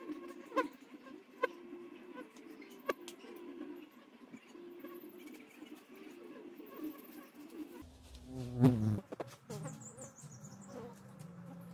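Honeybees buzz around the outside of a hive box, a faint, wavering hum with light ticks and patter, broken near the end by a brief handling clatter.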